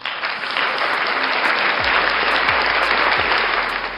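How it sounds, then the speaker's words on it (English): Dense, even studio-style applause rolls on without a break through a talk show segment, with a few dull low thumps underneath. "Let me give you applause."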